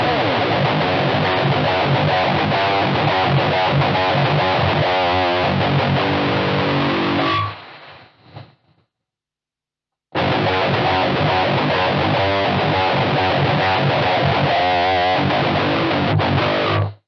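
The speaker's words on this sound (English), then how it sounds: "So cranking it adds a lot more hiss." Loud distorted electric guitar chords through a Stonegatefx boost and Line6 POD 2.0, the cranked boost adding steady hiss, cut off abruptly into a few seconds of silence, then resume at full volume.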